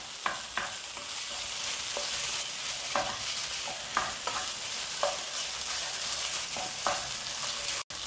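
A banana flower mixture with green chilli and grated potato is stirred in a pan, giving repeated scraping strokes at an irregular rhythm over a constant dry sizzle, with a brief dropout near the end.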